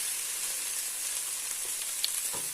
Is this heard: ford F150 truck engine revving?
no